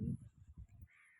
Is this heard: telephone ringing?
no